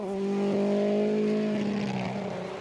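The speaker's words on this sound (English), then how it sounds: "That is still a very sick-sounding Mini." A Mini rally car with an ailing engine after an exhaust manifold change drones past on a Swedish rally stage, a loud steady rasping tone that holds, then slowly fades as it moves away.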